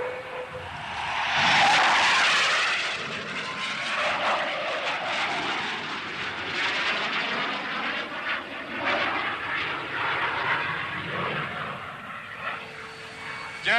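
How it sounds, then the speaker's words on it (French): A propeller airplane taking off for an aerobatics display in the 1970s, a steady engine roar that swells loudly near the start and then stays strong as it climbs and moves away. "ça y est, Roger décolle"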